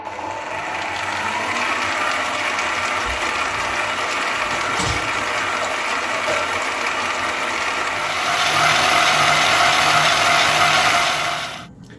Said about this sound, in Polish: i miksuję składniki do uzyskania puszystej piany